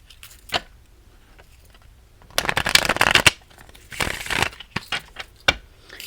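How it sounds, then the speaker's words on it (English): A deck of tarot cards is shuffled close by, with a few soft taps, then a dense burst of riffling and sliding card noise and several quicker flicks after it, with no talking. "I'm going to shuffle the deck."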